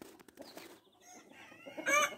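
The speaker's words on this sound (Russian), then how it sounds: "Этот хороший петушок." A Jersey Giant rooster clucks close by in a few short, throaty calls, rising into a louder squawk at the end.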